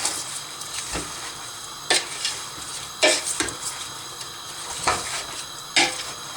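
Brine salt being stirred into a pot of tomatoes with a large spoon: a few scattered clanks and scrapes against metal over a faint, steady bubbling background.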